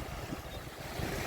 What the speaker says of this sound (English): it's a windy little beach out here.